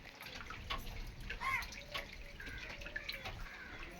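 Rainwater flooding around a house after heavy rain runs in a steady wash with scattered drips and splashes close by, while voices are faintly heard in the background.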